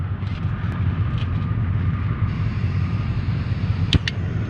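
A Jetboil camping stove burns an isobutane-propane gas mix with a steady, loud roaring hiss that runs unbroken the whole time, with a faint click near the end.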